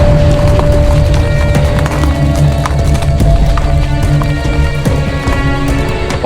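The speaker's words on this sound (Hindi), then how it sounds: "आप हमारे घोड़े ले जाइए, हमारे पास और घोड़े हैं।" Horses in a historical drama scene give off overlapping hoof clip-clops and stamping over a busy, loud background with tonal hum, sounding close and continuous from start to end.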